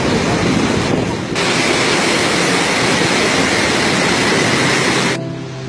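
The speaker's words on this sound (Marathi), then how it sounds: "हा आहे गोकाक फॉल्स" Gokak Falls, where the Ghataprabha river plunges into a gorge, gives a loud, steady broadband roar that fills the whole stretch without pause. It softens briefly near the start and drops away just before the end.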